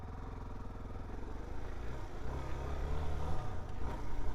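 A DR-Z4S motorcycle is ridden in aggressive ride mode A, its engine rumbling close and steady, then growing louder and rougher as the throttle opens.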